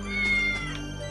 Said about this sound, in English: Oh, cat. Hello.